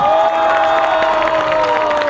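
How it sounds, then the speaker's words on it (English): Audience at the Young Chef Olympiad 2015 closing ceremony in Kolkata cheers and applauds a runner-up, a loud, sustained crowd roar with whoops and clapping filling the hall throughout. "For a big applause, please, ladies and gentlemen."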